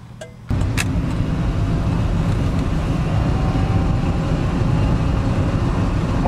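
A homemade electric Pontiac Fiero running on lead-acid batteries rolls down a road. Loud, steady road and drive noise cuts in after a brief quieter moment and holds constant.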